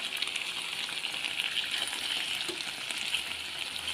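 Milkfish sizzles steadily in a frying pan while it cooks and is turned over, giving a close, even crackling hiss that holds at a constant level throughout.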